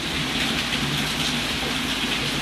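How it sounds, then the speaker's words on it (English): Heavy rain pours down in a steady, dense hiss that stays constant from start to finish, with no voices over it. "it's pouring down rain"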